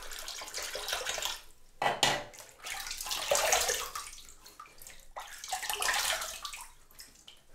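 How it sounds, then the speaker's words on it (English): Tap water runs and splashes in a sink while a shaving razor is rinsed, a close, bright rushing sound broken by short pauses and clinks, with no speech. "let's have a rinse"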